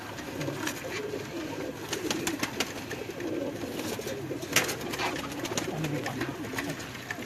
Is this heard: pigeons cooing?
yes